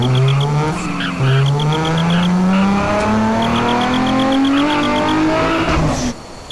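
A car accelerating in the video game GTA San Andreas, a loud engine note climbing steadily in pitch through gear changes, with tire squeal and a brief drop near the end.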